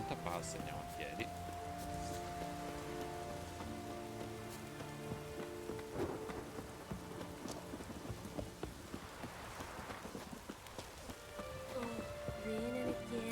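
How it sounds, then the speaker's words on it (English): Steady rain falls in The Witcher 3, a constant patter and hiss heard under game music and voices throughout. "Raining again."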